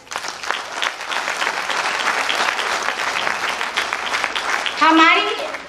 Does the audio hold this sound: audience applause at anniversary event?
yes